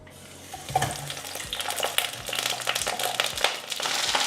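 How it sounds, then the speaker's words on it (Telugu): Cut eggplants dropped into hot oil in a kadai give a broadband sizzle that swells and stays steady, with scraping stirs and a few low knocks against the pan. "ముందుగా కట్ చేసి పెట్టుకున్న వంకాయలు ఆయిల్లో వేసేద్దాం."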